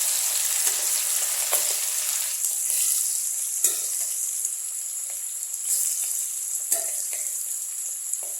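Chicken pieces frying for chicken chukka, with a steady close hiss of hot oil in the pan. Soft stirring clicks and pops come every few seconds, and nobody talks.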